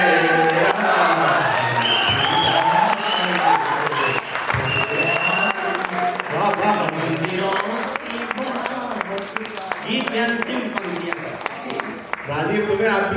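An audience at a kavi sammelan poetry recital at Bundelkhand University applauds steadily and close by, with scattered cheers and voices mixed into the clapping throughout.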